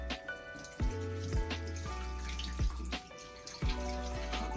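Tap water runs into a pan while beans are rinsed for akara, a steady splashing stream broken by repeated clinks and knocks of the pan and beans, close and fairly quiet, no talking.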